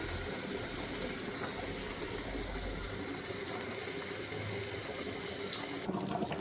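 A pot of sagu curry with coconut boils on the stove, giving a steady, fairly quiet bubbling and watery churn that continues throughout and cuts off near the end.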